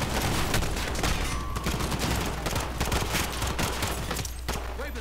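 Dense, continuous gunfire from the Modern Warfare video game campaign, rapid overlapping shots and bursts filling the whole stretch at a loud, steady level.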